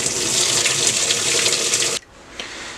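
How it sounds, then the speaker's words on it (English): Tap water pours steadily into a sink being filled to soak alpaca fiber, a loud close rushing stream that cuts off abruptly, leaving a quieter drip and trickle. "I'm just going to fill it with water and soak it just like I did with no soap"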